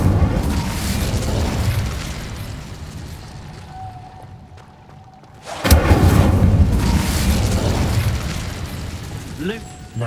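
Incendio fire spell cast in Hogwarts Legacy: a sudden loud burst of flame roars in after a quieter stretch of game ambience and music, then sustains as a dense fiery rush, with a voice heard over the game sounds.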